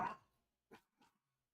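A dog barks three times, close and fairly loud, one bark followed by two shorter ones, with quiet pauses between them and no talk.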